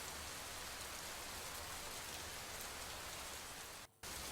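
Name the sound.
heavy rain falling in Kodagu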